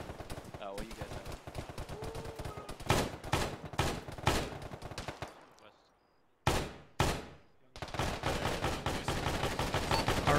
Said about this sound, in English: Are we still under fire?